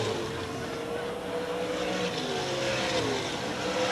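Late model race cars circle Selinsgrove Speedway in a steady, loud pack, engine drone with shifting pitches as several cars run close together.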